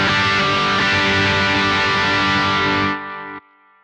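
An electric guitar plays through a Synergy Friedman BE Deluxe amp module with the saturation switch on. It gives a loud, dense distorted chord that rings out, then cuts off sharply into a brief fading tail.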